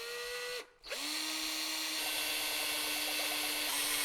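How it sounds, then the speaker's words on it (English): A power drill whines at a steady pitch while drilling into a Kawasaki KLR 650 motorcycle, briefly stops, then revs back up and keeps running loudly and continuously, close by. "now I have to drill into the bike"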